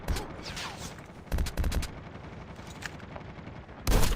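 Bursts of automatic gunfire in the mobile shooter Call of Duty Warzone Mobile: a sharp volley near the start, a loud cluster of shots midway and another heavy burst at the end over a low game hum.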